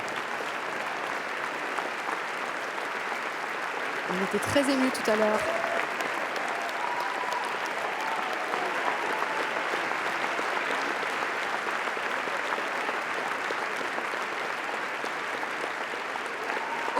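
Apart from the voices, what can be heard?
audience applauding at Cannes Film Festival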